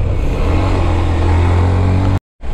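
A low-powered motorbike engine droning steadily while riding on a road, loud and close, cutting out briefly near the end before resuming.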